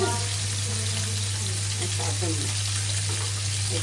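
Small puti fish fry in a pan, giving off a loud, steady, close sizzle that fills the whole stretch, with a low hum and a faint voice murmuring beneath it.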